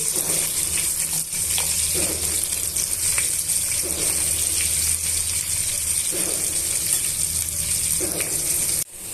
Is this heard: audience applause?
no